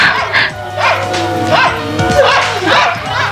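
Several dogs bark and yelp in quick repeated bursts, loud and close, with whimpering cries between them in a film scene.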